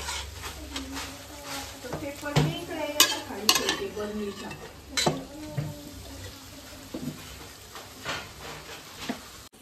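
Cooked mutton tipped into a pot of masala and stirred, with scraping clinks of a spoon against the metal pot and soft sizzling, while a person talks over it throughout.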